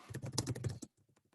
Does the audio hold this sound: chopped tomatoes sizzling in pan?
no